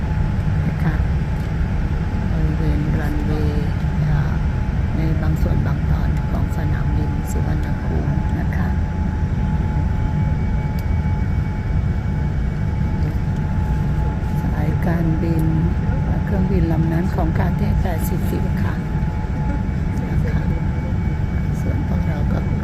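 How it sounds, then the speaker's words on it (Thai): An airplane taxis slowly along the runway at Suvarnabhumi Airport, heard from inside the cabin as a loud, steady engine drone and rumble that continues throughout, with a voice over it. "เครื่องบินเริ่มเคลื่อนไปช้าๆ ตามดันเบยนะคะ"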